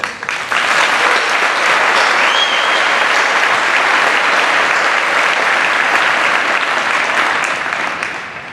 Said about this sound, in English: let us also applaud and congratulate all of the students for their meritorious accomplishments.